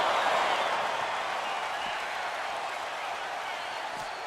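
A packed arena crowd in the WWE 2K26 wrestling game cheers and applauds on its feet, producing a steady, dense wash of clapping and crowd roar that slowly fades slightly over several seconds.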